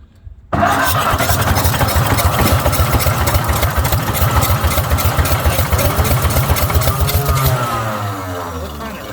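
A 1953 Ferguson TO-30 tractor that sat unused for 15 years cranks and fires after a brief pause, its engine running with a loud, rapid, even chugging close by for several seconds before winding down near the end.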